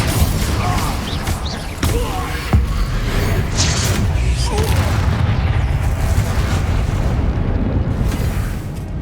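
Confringo blasting spells explode in Hogwarts Legacy on PS5 during a fight, with dense, loud booming blasts rolling continuously over a noisy battle din, sharper bursts near the two- and two-and-a-half-second marks.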